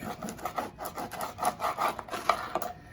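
A knife saws back and forth through a loaf of bread, cutting slices about an inch thick for pain perdu. The strokes rasp in a quick, uneven rhythm close to the microphone, with no talk.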